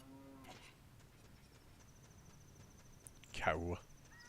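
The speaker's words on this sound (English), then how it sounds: "Cow." A cow in The Legend of Zelda: Ocarina of Time gives a short, loud moo near the end, after a long stretch of faint background ambience with crickets.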